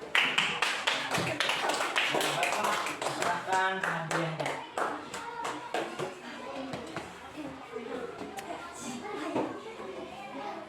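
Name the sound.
class clapping hands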